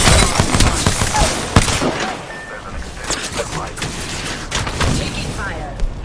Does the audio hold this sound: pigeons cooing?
no